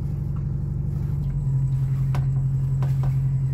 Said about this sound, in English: I don't know if you can hear that engine going in the background.